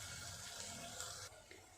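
Water is poured into a bowl of chopped ingredients and swirled around while cooking Sindhi-style dal fry, a steady splashing wash that cuts off abruptly near the end.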